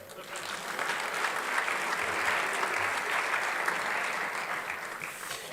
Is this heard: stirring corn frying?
no